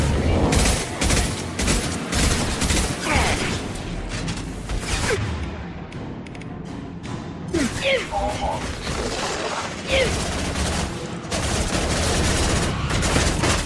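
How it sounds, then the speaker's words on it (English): Gunfire in the video game Mass Effect 2, dense bursts of shots and rapid automatic fire with crashes, loud and nearly continuous throughout, with voices talking over the combat. "I'm taking fire."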